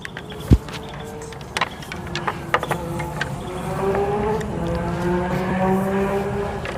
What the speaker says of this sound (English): Here, a motorcycle going really, really fast